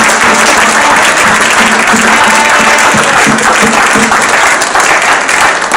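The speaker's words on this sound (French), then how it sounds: "J'attends que vous puissiez vraiment acclamer pour vos pasteurs." A church congregation at the official opening of an evangelical centre applauds and cheers for their pastors: dense, loud, continuous applause from a large crowd, steady throughout with no pause.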